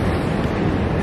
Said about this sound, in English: Look at the beautiful beaches of New York City.